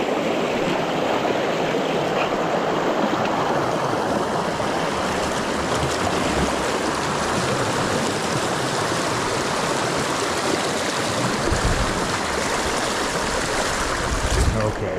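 Feet wade across a rocky stream near Cat Rocks, New York, under a loud, close, continuous rush of flowing water, with splashes that blur into the steady torrent.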